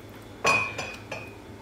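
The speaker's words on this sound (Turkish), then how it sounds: "Şimdi kapağını kapatacağım" A metal lid set down on a pot of red lentil soup gives one sharp clink, followed by two fainter clinks as it settles, close by with no talking.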